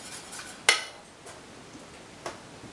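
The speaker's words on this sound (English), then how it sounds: "go ahead and pour that in with the bananas. And whisk that around." Banana bread batter with mashed bananas whisked in a bowl, heard as a faint, soft stirring with a couple of light clinks of the utensil against the bowl, close but quiet.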